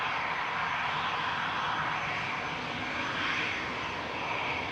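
An Airbus A320 Classic airliner departs Manchester Airport, its engines a steady broadband roar that holds at constant loudness throughout, heard from a distance with no voices.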